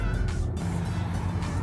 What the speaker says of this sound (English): Oh, look at this car. Look at that. Oh, sounds good too.